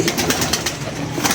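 A pigeon coos close by in a loft used for pigeon keeping, giving soft, repeated throaty murmurs in a brief, steady stretch with no voices.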